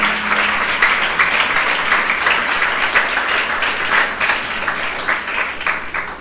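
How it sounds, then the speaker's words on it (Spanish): A church congregation applauds steadily, a dense, continuous wash of many hands clapping at even loudness throughout, with no talking over it. "le damos un aplauso al Señor por la vida de Mayán Bustamante"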